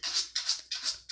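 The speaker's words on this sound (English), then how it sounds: "If you hear scratching in the background, BTW, that is Harley." A pet scratches at a door indoors: four quick, rasping bursts in a steady back-and-forth rhythm, close by and fairly soft, with no voices.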